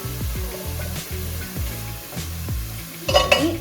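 Onions fry with salt in a pan for chicken dum biryani, a spoon scraping and stirring in a quick, even rhythm over a soft sizzle.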